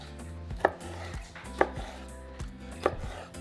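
A knife chops strips of nopal cactus two at a time on a board: three sharp, separate cuts spaced about a second apart, close and clear, with no talk.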